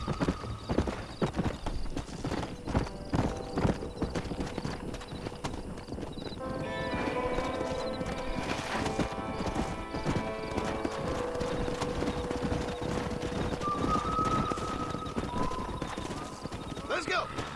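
Horses in the video game Red Dead Redemption, with rapid, rhythmic clip-clop hoofbeats of galloping throughout, a clear whinny partway, and game music and a voice speaking over the action.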